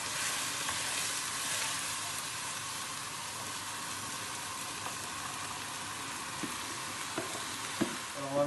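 Vegetables frying with a little sugar in a pan, a steady bright sizzle that fills the scene, with occasional scrapes and knocks of stirring near the end.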